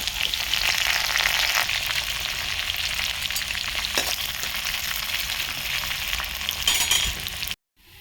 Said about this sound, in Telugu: ఇప్పుడు పచ్చిమిరపకాయలు, ఉల్లిపాయలు వేస్తాం. కరివేపాకు కూడా వేస్తాం.